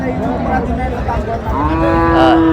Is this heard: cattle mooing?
yes